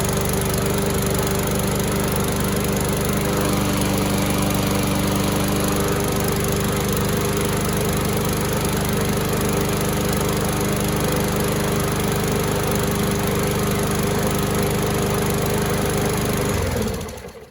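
A repaired Briggs & Stratton EX lawn mower engine runs at a steady, loud, close drone with a constant buzzing hum for many seconds before cutting off abruptly at the end.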